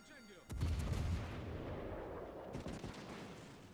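Enemy ship guns fire in World of Warships: Legends, one sudden heavy artillery blast followed by a long rumbling decay and a second, softer volley of shots a couple of seconds later.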